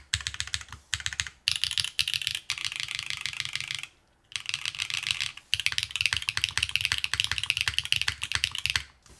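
Close, crisp typing on a Keycult No. 2 60% mechanical keyboard, with fast bursts of keystrokes broken by two short pauses and no voices.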